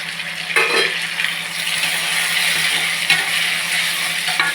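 Chopped tomatoes fry in a pan with a loud, even sizzle while a spoon stirs and scrapes through them, a few sharper knocks standing out, with no talking.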